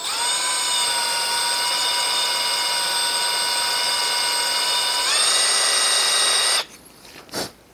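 A power drill whines steadily while drilling out a broken stud on a Brunswick A2 bowling pinsetter turret basket. Its pitch rises briefly before the motor cuts off, leaving a couple of faint knocks.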